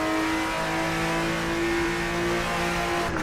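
Porsche 964 engine in the Shutoko Revival Project racing video game, floored from the pit lane and revving toward 9,000 rpm: a loud, sustained, rising mechanical wail with layered engine harmonics, steady throughout the short span.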